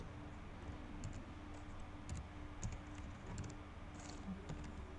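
Steady computer keyboard typing while a grading comment is written in the Moodle learning system, a quiet run of soft key clicks at an even pace with no voices.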